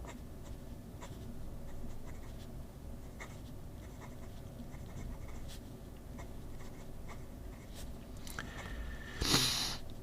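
A Graf von Faber-Castell Classic Pernambuco fountain pen, the 1860 Max with a stiff number 6 medium nib, scratches steadily across paper in a close, quiet, continuous writing texture, ending with a brief louder scuff.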